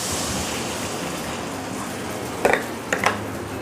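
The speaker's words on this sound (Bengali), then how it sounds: "এবার আমি এর মধ্যে জল দিয়ে দেব।" Water splashes into sizzling masala in a pan for a Khoira fish head curry, giving a steady hissing wash, then a couple of brief clinks of a utensil against the pan near the end.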